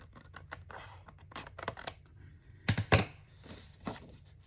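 Scissors snipping through paper while cutting out pieces for a handmade journal cover: a close, quiet series of irregular crisp snips and rustles, with a couple of louder cuts in the middle.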